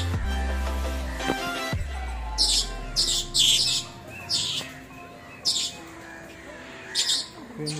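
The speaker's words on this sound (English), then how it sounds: "This is called love bird." Lovebirds at Jawalakhel Zoo in Lalitpur chirp in short bright bursts, several squawky calls repeating close by over a low background hum, with a voice heard briefly at the start.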